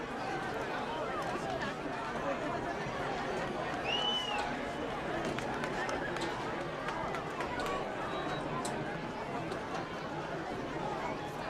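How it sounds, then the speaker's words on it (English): A large crowd leaving a high school football stadium at night forms a steady, diffuse babble of many voices and shuffling movement, heard at a distance without letting up. "Crowd is starting to thin out"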